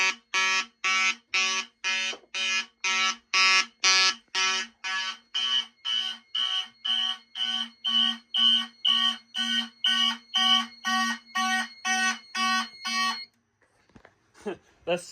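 A smoke detector alarm sounds during a smoke test: loud, steady pulsing beeps, about sixteen in quick even rhythm, then it cuts off and a startled voice speaks briefly.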